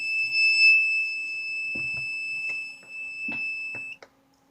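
A power press gives a sustained electronic beep for about four seconds over a few soft clicks and taps, then cuts off, leaving near silence.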